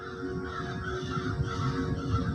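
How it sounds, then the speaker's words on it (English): Crows caw repeatedly outdoors, a rough cluster of harsh calls at moderate distance over a steady background hum. "Yeah, crows."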